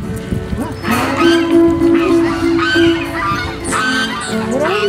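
Several geese honk nearby in loud, overlapping calls, with outdoor noise and brief voices mixed in.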